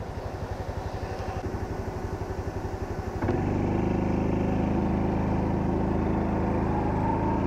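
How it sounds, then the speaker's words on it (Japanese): A Honda Super Cub C125 motorcycle pulls away in second gear on a hot day, its small single-cylinder engine shifting from a steady, even idle putter into a louder, smoother drone as it accelerates close by. "今ね、あえて2速で発進してみましたが、2速もね、余裕ですね"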